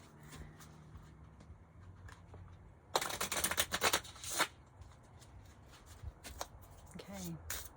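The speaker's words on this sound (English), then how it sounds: "One more shuffle." A Marseille Waite tarot deck is shuffled in one quick, crisp burst of riffling card noise lasting about a second and a half. Before and after it the room stays quiet, with only faint handling sounds.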